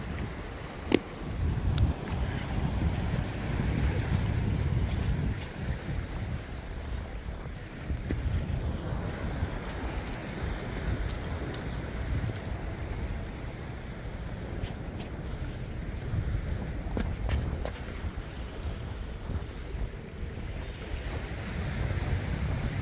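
Waves break steadily at Pohang Songdo beach in Korea while strong wind buffets the microphone, a continuous rushing roar with occasional louder bursts and no voices.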